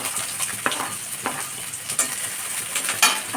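Flattened rice (chire) and freshly added onion fry in a pan, a bright sizzle broken by several sharp scraping stirs roughly every second.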